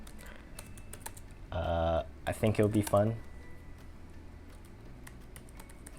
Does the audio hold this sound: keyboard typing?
yes